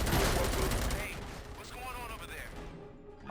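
Rapid bursts of heavy gunfire from the ED-209 enforcement robot in Robocop: Rogue City, loud and close at first, then thinning into echoing shots with game chatter mixed in.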